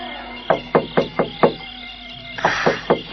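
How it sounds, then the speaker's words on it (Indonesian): Knuckles rap on a house door in two bursts, first five fairly even knocks, then a brief pause and a quicker, slightly louder series of knocks, heard close up and alone. "Dia mengetuk-ketuk pintu lagi."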